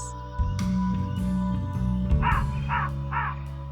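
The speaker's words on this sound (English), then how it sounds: "The crow is a bird of black color." Black crow cawing: a series of three harsh, raspy caws in quick succession, fairly close and clear over a steady low background rumble.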